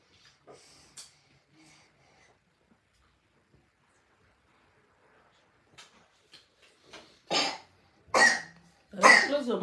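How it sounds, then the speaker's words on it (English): A person gives several loud, close coughs in quick succession near the end, after a stretch of near silence with faint household sounds and a few soft earlier throat noises. "Close your mouth while coughing."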